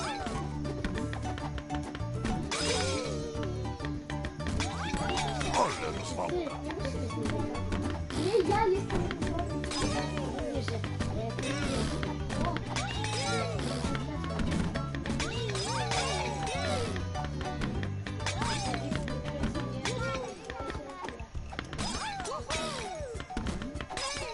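Jugs being smashed in a video game contest between players, repeated crashing and thwacking impacts scattered through a busy mix of game music and excited talking voices.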